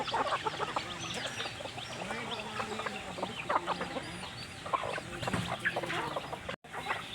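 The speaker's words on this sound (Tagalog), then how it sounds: "Yan po ang ating alagang manok." Several chickens, including newly hatched chicks, cluck and chatter continuously at close range, a busy overlapping flock with occasional sharper squawks.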